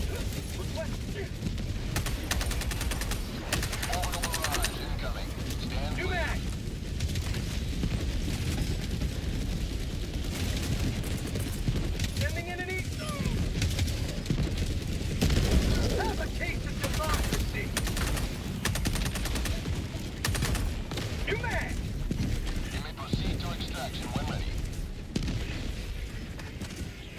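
In Helldivers 2, a sentry gun fires continuously and an orbital barrage pounds down, forming a sustained, dense wall of gunfire and booming impacts that lasts the whole stretch, with radio-style voices occasionally cutting through.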